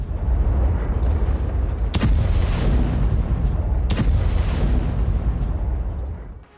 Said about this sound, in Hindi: वीडियो में डिमोना सेंटर पर बमबारी दिखाई गई है।